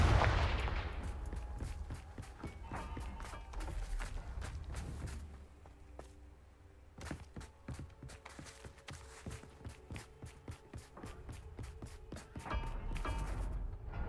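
Confringo blasting-spell explosions in the Hogwarts Legacy video game, a loud burst at the start followed by a string of sharp thuds and footsteps, with further bursts near the end.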